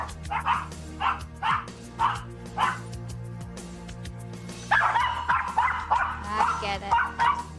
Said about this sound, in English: All dogs can bark very loudly, but the two Maltese, their bark is very, very high-pitched.